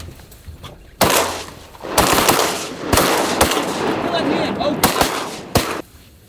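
Shotgun blasts during a duck hunt in south winds, several loud sharp reports spaced about a second apart, each trailing into outdoor rumble and echo, up close, with faint voices between shots.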